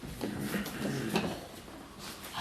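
A door swings shut in a room, a brief wooden knock and clatter amid shuffling handling noise, close by and moderately loud.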